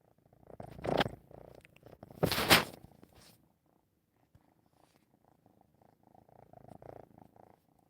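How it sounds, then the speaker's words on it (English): A cat purrs up close in a quiet room, a faint low rumble that comes and goes, broken by a couple of louder rustling bursts. "Can you hear him purring?"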